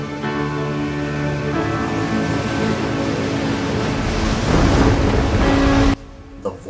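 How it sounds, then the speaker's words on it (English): Ocean waves crash against a cliff in a loud, continuous roar of surf, with broad rumbling swells and a heavier surge near the end before the sound suddenly drops away. "speaking over the sound of crashing waves"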